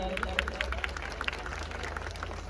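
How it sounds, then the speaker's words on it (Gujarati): A crowd at a tea shop opening in Panthawada village claps rapidly and steadily, with many overlapping hands and crowd noise and voices underneath. "એકવાર તાળીઓથી વધાવી દેજો જોરદાર"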